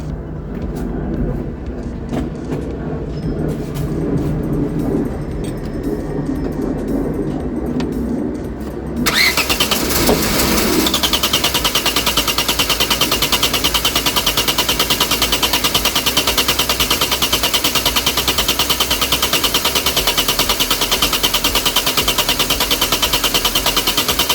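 A Vauxhall Cavalier Mk2 engine with a rebuilt carburettor cranks unevenly for several seconds, then catches and roars into a loud, steady, high-revving run that continues without letup instead of idling.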